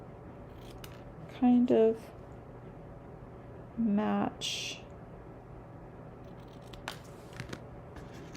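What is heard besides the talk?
scissors cutting paper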